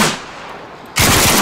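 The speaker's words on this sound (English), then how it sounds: "Careful, mate, you're getting shot at." Gunfire in Arma 3 on the Stratis map: a sharp, loud burst of rapid automatic shots cuts in near the end after a brief fading noise.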